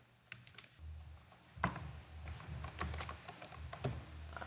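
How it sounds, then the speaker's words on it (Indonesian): Computer keyboard being typed on to fill in a letter in Word 2007, a quiet, steady run of close key clicks with irregular rhythm and a few sharper taps. "Selanjutnya kita ketikkan suratnya."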